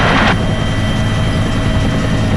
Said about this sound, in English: Logan traffic, helicopter 98 Foxtrot, departing from the ramp